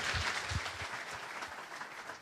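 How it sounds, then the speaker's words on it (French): Audience applause in a hall at an international forum, closing a panel on food safety; a steady wash of many hands clapping, fairly even in level, heard alone without talk. "je vais demander à la salle, à l'audience, d'applaudir chaleureusement tous nos experts"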